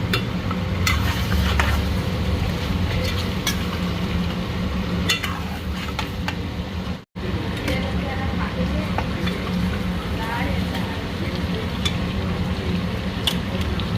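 Spice paste with chicken leg pieces being stirred and fried in a pan for a kasuri methi chicken dish, a steady close sizzle with scraping stirring throughout and a brief break midway.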